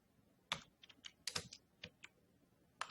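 Close, faint typing on a computer keyboard while writing pseudocode, with a short irregular burst of crisp key clicks and no talking.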